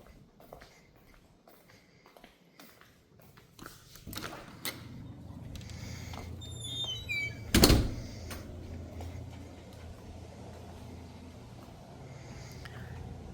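A door opening out to the backyard patio of a house, a single sharp latch-and-swing burst standing out over steady low room rumble and quiet footsteps.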